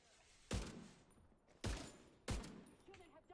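Gunfire in The Division 2 video game: three loud, sharp bursts of shooting spaced roughly a second apart, each with a long decaying echo, and no talk.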